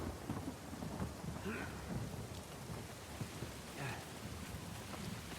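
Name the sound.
rain and thunderstorm in the video game Uncharted 4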